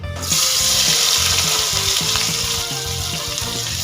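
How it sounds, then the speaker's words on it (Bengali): Five large sliced onions hit hot oil over a high flame and burst into a loud, steady hiss that starts abruptly and holds, with a faint low patterned hum underneath. "পেঁয়াজগুলো হাই ফ্লেমে লাল করে ভেজে নেব"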